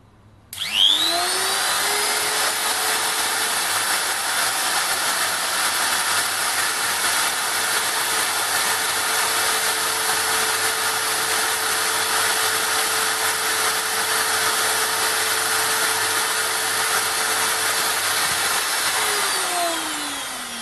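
A HILDA 400-watt drill die grinder runs at maximum speed, a steady high-pitched whine that spins up quickly, holds loud and constant for about twenty seconds, then winds down near the end, with no talking.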